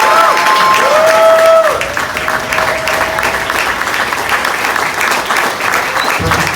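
Loud crowd applause and cheering at a ribbon cutting event for The Remix Project, sustained clapping with whistles and shouts throughout, close and lively.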